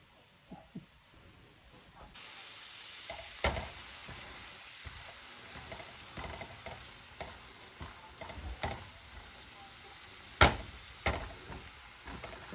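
Onions and mixed vegetables fry in a pan at home, giving a steady faint sizzle with scattered louder scrapes and clicks of stirring throughout.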